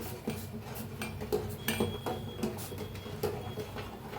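Sugar being stirred into hot milk in a metal pot gives quick, repeated scraping clinks and taps of a spoon, close and fairly loud, without talk.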